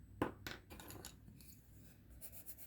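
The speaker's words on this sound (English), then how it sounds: "I'll erase it." An eraser rubbing on drawing paper in a run of quick scratchy strokes, close and light, starting with a couple of sharper scuffs and trailing into softer brushing.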